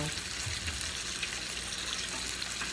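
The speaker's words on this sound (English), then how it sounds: "we're still frying the hamburg" Quiet, even sizzle of ground beef frying in a pan for soup, a soft crackling hiss that continues throughout without speech.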